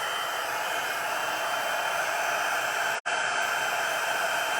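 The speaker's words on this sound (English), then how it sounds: "I'm going to grab my heat tool." A heat tool for card embossing blows hot air in a loud, steady hiss close by. The rushing tone holds constant except for one very brief dropout, with no talking.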